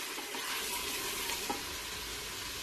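Chicken with bottle gourd being stir-fried in masala makes a faint, steady sizzle with soft stirring scrapes in a pan.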